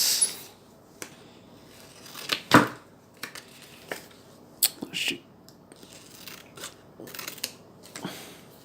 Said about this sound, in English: There's your label again. Cut it like that.